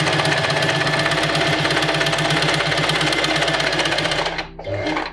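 A sewing machine stitches forward and back in a loud, steady rapid whir, then stops briefly near the end before one short final burst of stitching.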